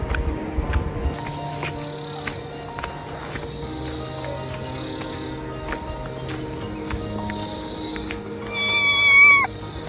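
Dense, steady cricket chirping fills the background, and a short cat meow rises near the end.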